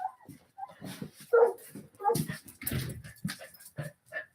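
A dog kept outside whimpers and gives short yips and barks, fairly close, with a person's voice talking over and between the dog sounds.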